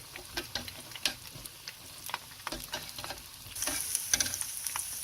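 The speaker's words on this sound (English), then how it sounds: "And the cornstarch is going to help thicken it up. So you want to stir that a bit." General Tso's tofu sauce thickened with cornstarch is stirred in a pan, giving quick rhythmic clicks and scrapes over a soft background sizzle that grows louder near the end, close and fairly quiet with no talking.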